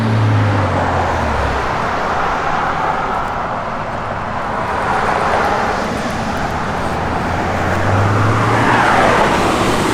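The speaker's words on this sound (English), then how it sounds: "It's got Flowmaster dual exhaust with chrome tips." A 1972 Chevrolet El Camino V8 with Flowmaster dual exhaust and chrome tips idles steadily up close, a deep continuous rumble that swells slightly at the start and end with no talking.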